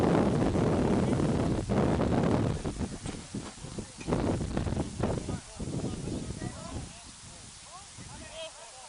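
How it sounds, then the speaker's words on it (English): Wind buffets the microphone outdoors at a boys varsity game, a loud, rumbling roar that swells and dips in gusts throughout. "It's a breezy day here."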